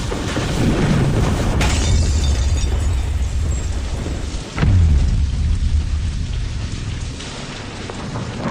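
Heavy rain falls steadily throughout, and a deep rumble of thunder swells in the middle before settling back under the downpour, with no voices.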